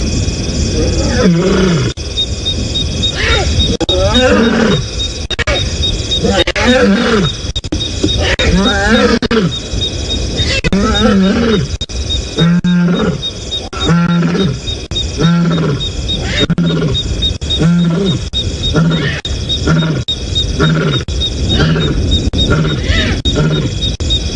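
A lioness of the Nkuhuma pride calls on a sunset safari drive, a loud, close series of deep rhythmic roaring grunts repeating steadily throughout.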